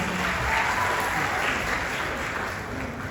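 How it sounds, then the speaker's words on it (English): Audience applause after a speech at a Warri civic event, a dense steady wash of clapping that fills the whole stretch and fades slightly toward the end, with no voices over it. "Please give me a round of applause again."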